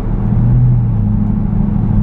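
A modified 2006 Ford Mustang GT idles with a loud, deep, steady rumble, close and continuous for two seconds with no speech over it.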